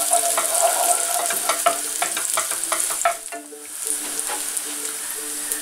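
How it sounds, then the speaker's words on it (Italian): Finely chopped garlic and shallot fry in two or three spoonfuls of extra virgin olive oil in a wide pan, giving a steady, close sizzle broken by occasional stirring scrapes, with no voice. "in questa ampia padella ho aggiunto 2-3 cucchiai di olio extravergine di oliva l'aglio e lo scalogno tagliato finemente e ora facciamoli dorare qualche minuto"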